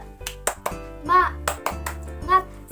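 Children in a religious education class for fourth graders performing the tepuk semangat routine, sharp rhythmic hand claps punctuating a chanted call, with children's voices speaking between claps.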